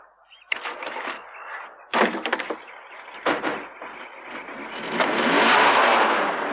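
A stolen car pulls away, with door slams and bumps early on, then a mid-pitched engine revving and accelerating, loud and close, building into a steady roar.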